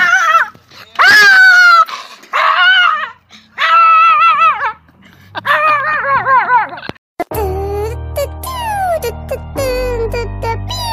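A happy dog makes a run of loud, close, high-pitched whines and yips in several bursts, ending in a longer sustained whine over a low rumble.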